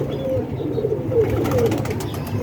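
Pigeons cooing on a rooftop among pigeon-club birds, a soft rolling low coo repeated several times, close and steady over a busy background.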